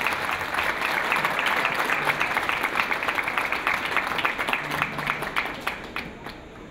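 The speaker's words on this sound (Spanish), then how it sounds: "Aplauso, por supuesto, para todos ellos." An audience at a musical talk on danzón and mambo dancers in a Mexico City salon breaks into sustained applause, a dense wash of clapping with some distinct claps standing out, fading slightly near the end.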